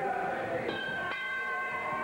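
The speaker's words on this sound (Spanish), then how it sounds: "Pero la campana, la victoria para los asesinos, la derrota para Jerry Finley" Ring bell clanging at the close of a 1982 WWC professional wrestling tag-team match, a couple of bright metallic strikes standing out over steady crowd noise and commentary.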